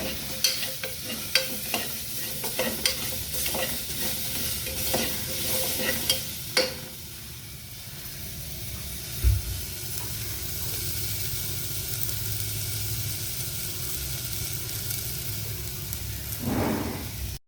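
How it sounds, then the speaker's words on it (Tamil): Diced potatoes stirred and frying in a soup pot for oyster soup: a loud, continuous sizzle with a few sharp spoon clacks early on, settling into a steady frying hiss. "அடுத்தது வந்து பொட்டேட்டோஸ், அதாவது உருளைக்கிழங்கு ஆட் பண்ணுறோம். ஆட் பண்ணிவிட்டு ஒருக்கா நல்லா மிக்ஸ் பண்ணிவிட்டு"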